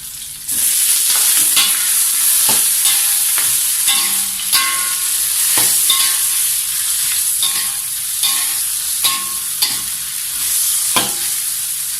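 Fish sticks fry loudly in a pan with dried spice paste, a steady close hiss of sizzling oil broken by repeated scraping stirs of the spatula throughout.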